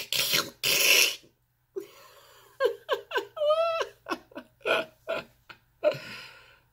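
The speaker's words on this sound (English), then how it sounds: "And they are still hissing." Cats yowl and hiss in short bursts, a long breathy hiss at the start followed by a run of rising and falling meows and growls, fairly close.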